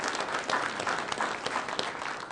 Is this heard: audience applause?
yes